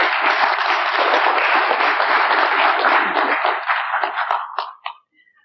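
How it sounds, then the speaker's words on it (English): An audience gives steady, full applause for speaker Jeane Manning at a 1996 presentation, loud and sustained before thinning to a few last claps and fading out. "I think you should all give her a nice round of applause."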